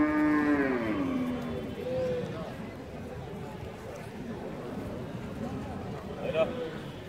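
A dairy cow at a cattle market lets out a long, loud, drawn-out moo that trails off, followed by a busy background of market murmur and a brief higher call near the end.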